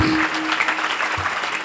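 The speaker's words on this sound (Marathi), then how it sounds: "माझ्या वतीनं तुमच्यासाठी तुम्ही टाळ्या वाजवा." An audience claps together at a kirtan, a steady dense patter of applause throughout, fairly loud and close.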